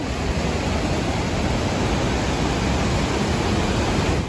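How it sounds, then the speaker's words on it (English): Låtefossen, a twin-stream waterfall in Norway fed from Lake Låtevatnet, roars as a loud, continuous, dense wash of rushing water heard up close, steady throughout with no voices. "The waterfall consists of 2 separate streams of water flowing down from Lake Låtevatnet."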